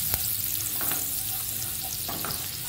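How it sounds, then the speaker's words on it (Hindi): Finely chopped garlic frying in a pan for pasta, a close, steady sizzle with a few stirring scrapes and no talking. "और इसके साथ मैं डाल दूंगी गार्लिक, जिसको मैंने बारीक बारीक चॉप कर ली है।"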